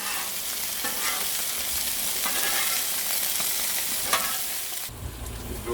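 A metal spatula scrapes and chops loose-meat burger and onions on a hot griddle, with continuous sizzling and scraping strokes that cut off abruptly near the end; no voices.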